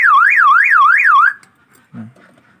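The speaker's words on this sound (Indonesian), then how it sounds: "Nah ketika nanti kunci kontak on atau misalkan mesin hidup, jadi suaranya seperti ini." An aftermarket car alarm siren on a Toyota Corolla KE30 wails in a fast rising-and-falling pattern for about a second as the ignition switches on, then cuts off, followed by a brief low thump.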